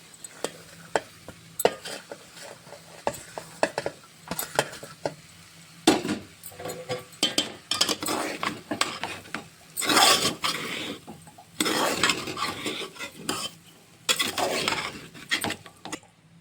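Cooked white rice mixed into tomato rice in a pan, heard as irregular close scraping and clinking of a spoon against the pan, with bursts of rustling stirring separated by short gaps.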